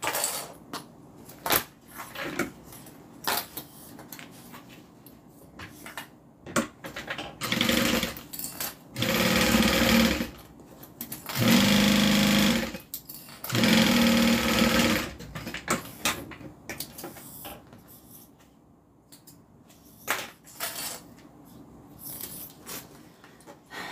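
A sewing machine stitches the clipped sides of a fabric bag with cotton interior fabric, running in three loud sustained bursts separated by short pauses, with quieter handling and rustling before and after and no talk.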